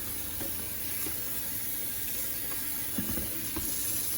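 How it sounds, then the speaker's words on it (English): Water runs steadily in a kitchen sink as black sand is rinsed, a constant hiss and splash with a few soft knocks and clinks near the end. "I'll rinse this stuff down."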